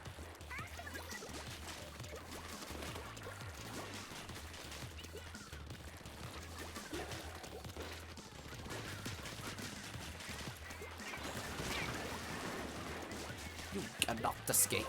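Missile volleys launched in Splatoon 2 during a Splatfest match, a steady rumbling barrage of bursts and crashes that swells near the end, with a voice talking over parts of it.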